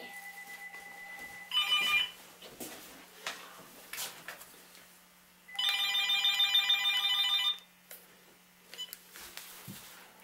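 A telephone rings indoors in two bursts of electronic trilling, the second longer, with faint handling noises and a steady low hum in between.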